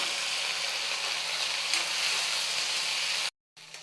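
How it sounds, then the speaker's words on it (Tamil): Chopped onions and two medium tomatoes sauté in a pan for a brinjal and black-eyed pea tamarind kuzhambu, a loud, even crackling sizzle that runs without a break and then cuts off abruptly just before the end. "இதையும் சேர்த்து வதக்கிக்கலாம்"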